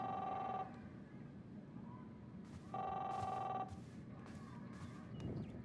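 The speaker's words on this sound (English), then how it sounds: "Is that the phone?" Telephone ringing in the Captain Spirit video game, two bursts of electronic bell ring separated by a pause, over quiet ambient background.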